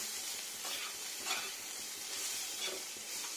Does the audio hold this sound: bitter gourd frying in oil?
yes